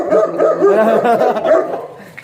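A dog makes close, loud yelping and whining barks in a quick run at a birthday party gathering, with voices mixed in.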